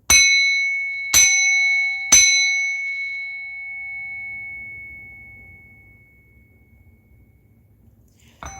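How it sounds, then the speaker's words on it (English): A bell is struck three times in quick succession, each strike ringing with a clear sustained metallic tone that slowly decays over several seconds, followed by a faint low hum and one final soft tap. "I'm going to bang this bell to remove, block, and cleanse all negative energy"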